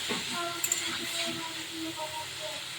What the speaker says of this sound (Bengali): মাছগুলো খুব বেশি করে ভাজবো না একটু হালকা ভাজবো